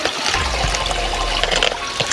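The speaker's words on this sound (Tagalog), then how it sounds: "maganda yung agos ng tubig ngayon dito mga idol." Stream water flowing at a fresh outdoor spot, a loud, steady rushing wash with bubbling and trickling detail close by, continuous and without voices.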